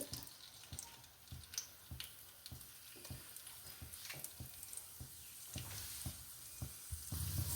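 Chana dal and urad dal frying in hot oil for lemon idiyappam sevai, a steady sizzle with repeated light clicks of stirring, close and moderately loud, no voices.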